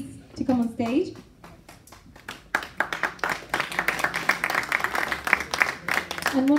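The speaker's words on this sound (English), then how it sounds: "Please welcome him with a round of applause." An audience at an award ceremony breaks into sustained clapping, dense and moderately close, with a voice speaking briefly just before the applause begins.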